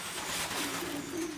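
Pigeon hen cooing inside a racing pigeon loft, a soft, low, throaty warble rolling continuously over faint background hiss, close and alone.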